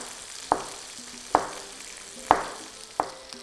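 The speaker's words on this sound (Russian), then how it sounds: "отправляем курицу на сковороду и обжариваем примерно минут 10" Chicken fries in a pan with a quiet, steady sizzle, broken by four sharp spatula clacks against the pan at uneven intervals.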